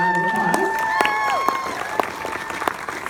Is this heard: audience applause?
yes